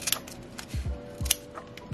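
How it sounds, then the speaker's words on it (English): Scissors cut a tassel off a leather pouch, giving several quick close snips in a short burst with no voices. "Can I cut this off to release the tassel?"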